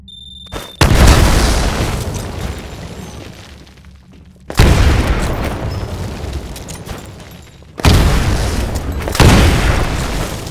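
Three loud grenade explosions in building windows in the Titanfall game boom one after another about every three to four seconds, each a sharp blast followed by a long rumbling decay, with no talk.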